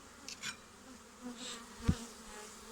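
Honey bees buzz around an open hive during an inspection, a soft continuous drone with individual insects passing close by in brief louder swells and a few light bumps of handling.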